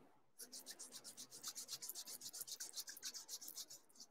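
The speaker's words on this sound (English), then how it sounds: "rub your hands together" Two hands rub briskly together in quick, even back-and-forth strokes, about twenty swishes in a row, soft and close in an otherwise quiet room with no talking.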